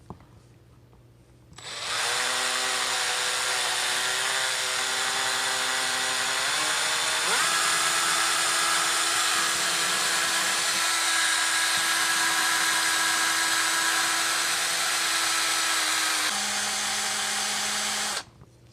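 An engine valve from a Mitsubishi Eclipse 2G is spun against fine 2000-grit sandpaper to clean off carbon deposits, giving a steady, loud, high-pitched whirring hum that runs unbroken and shifts pitch midway.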